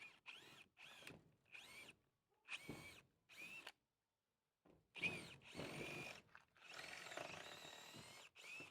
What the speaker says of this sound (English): I'm going to start with a 3/8 inch hole.